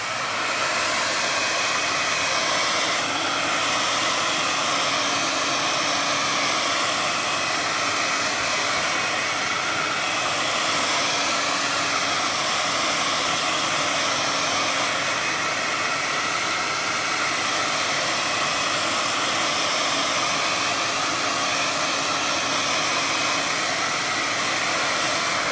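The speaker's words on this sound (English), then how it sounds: "I'm gonna dry this a little bit with a hair dryer" Hair dryer blowing steadily to dry ink on a painting, a loud, continuous whooshing hum held close for the whole stretch with no pauses and no talk.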